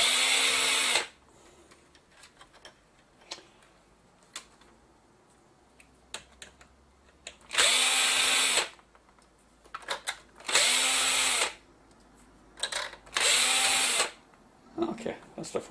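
A power screwdriver drives out the four screws holding a circuit board in a Cello 2239AF television, sounding in four loud whirring bursts of about a second each, separated by quiet pauses with light tapping and handling.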